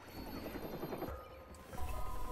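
A helicopter in the game Watch Dogs throbs with a low, rhythmic rotor chop, quiet and continuous over a short stretch.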